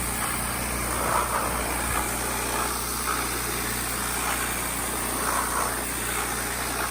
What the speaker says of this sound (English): The more consistent that you can be with the power washer, the better look you're gonna have on the tail end.